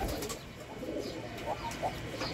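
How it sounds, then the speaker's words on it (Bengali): Pet pigeons on a rooftop farm cooing softly in repeated low, rounded calls, fairly faint against a quiet outdoor background with no talking. "এই যে আমার কবুতর"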